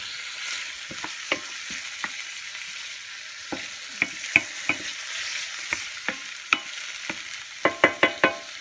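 Prawns fry in a hot pan for pad thai, with a low sizzle running underneath as a utensil stirs them, giving sharp scraping clicks that come at uneven intervals and bunch into a quick run near the end.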